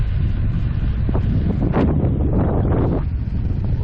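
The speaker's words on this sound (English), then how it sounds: "It's getting really windy." Steady, heavy wind buffeting a microphone while riding an electric BMX bike at about 22 miles an hour, a constant low roar with gusty surges in the middle and no voices.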